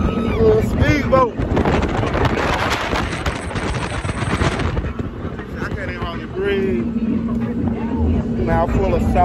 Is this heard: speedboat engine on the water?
yes